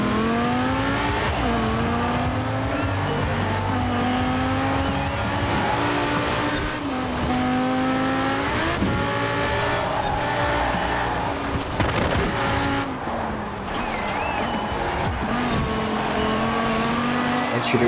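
Racing car in Forza Horizon 4, engine revving hard with rising and falling pitch through gear shifts, tires squealing now and then, loud and continuous throughout.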